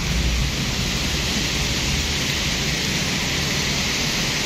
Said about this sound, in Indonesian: Oh, udane sampai deres kok.